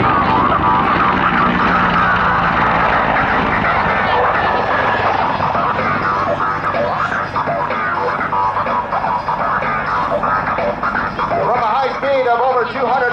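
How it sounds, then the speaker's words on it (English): A Royal Canadian Air Force CH-146 Griffon helicopter makes a fast low pass at an airshow on Armed Forces Day, its loud, continuous rotor and engine roar swelling and shifting in pitch, with an announcer talking over it. "Coming in from our left in a blistering high-speed pass that'll take him up to about 200 or so kilometers an hour."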